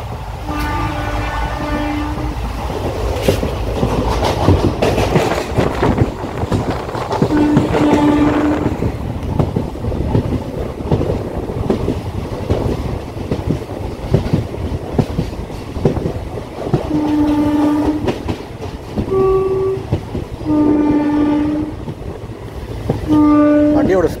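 The Tiruchchirappalli Express rolls through with a loud, continuous rumble and rattle of wagons close by, its horn sounding in several repeated blasts, some short and some held.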